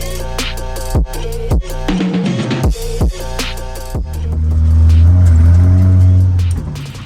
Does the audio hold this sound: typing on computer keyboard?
no